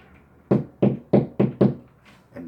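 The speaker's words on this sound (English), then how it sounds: "grab your hammer." A hammer striking a nail, five sharp, evenly spaced knocks in quick succession followed by a softer tap, close and dry with no talking.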